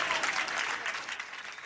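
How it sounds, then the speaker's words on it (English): A crowd at a town hall meeting in Roswell, Georgia applauds in a dense, steady burst of clapping that stays loud throughout before easing slightly toward the end. "crowd goes wild"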